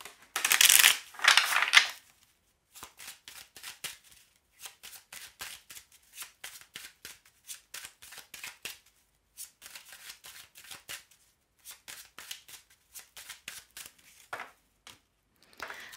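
An oracle card deck (Oracle des miroirs) is shuffled close by: a loud riffling burst at the start, then a long run of soft, quick, rhythmic card slaps and flicks with short pauses between them.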